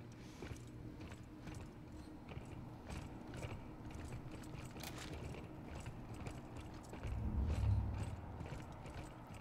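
A printer machine in The Callisto Protocol running on its own, a quiet stream of mechanical clicking and gear-like ratcheting, with a low rumbling swell near the end.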